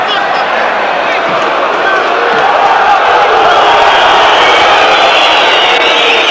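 A packed football stadium crowd at a 1995-96 UEFA Cup match between Olympique Lyonnais and Nottingham Forest roars steadily and loudly throughout, a dense, continuous wall of noise.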